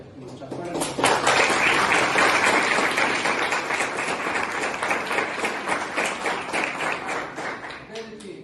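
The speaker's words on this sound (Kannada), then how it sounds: "ಅವ್ರಿಗೆ ಚಪ್ಪಾಳೆ." A college audience at a Voters Day event in Hoodi, Whitefield claps for a music teacher, a dense burst of applause rising sharply and holding steady for about seven seconds before fading.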